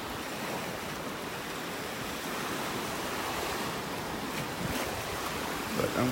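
Ocean waves break onto a beach in North Naples, Florida, a steady wash of surf with wind noise hissing over the microphone, continuous and fairly close, with no talk.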